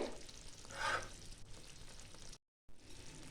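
Bhola fish pieces frying in oil in a pan, a soft steady sizzle with a brief louder flare as a piece is flipped, quiet and close, with a short gap of silence near the end.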